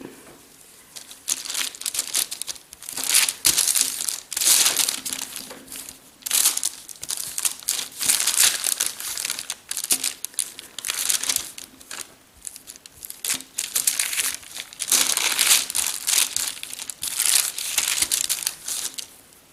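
Parchment paper crinkles and crumples steadily while salt dough is worked on it, loud and close, in continuous rustling bursts with brief pauses and no speech.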